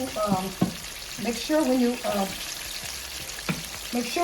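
Southern pan-fried catfish sizzles in a skillet with a steady crackling hiss while a person talks over it.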